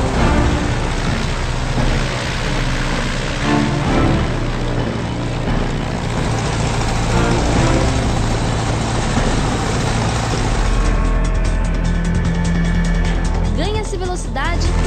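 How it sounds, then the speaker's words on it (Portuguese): A small airplane engine starts and runs with a loud, steady propeller drone and buzzing, continuing without a break, while someone talks over it. "Liga-se o motor."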